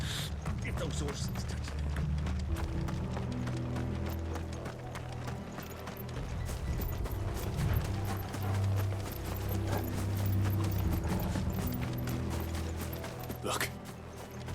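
Horse hooves clip-clop at a gallop in a Final Fantasy XVI scene, a steady rhythmic beat of several horses running beneath a low rumbling music bed, with brief clanks of tack and gear.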